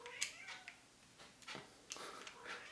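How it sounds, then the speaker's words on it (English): A cat meows several times in the background of an indoor room, faint and distant, short cries spread across a quiet space. "You can hear my cat in the background"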